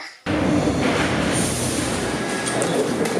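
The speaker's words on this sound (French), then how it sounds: "là on est dans le métro maintenant" A Paris metro train runs underground, its loud, steady rumbling roar starting abruptly and continuing with faint high wheel squeals and clatter from inside the carriage.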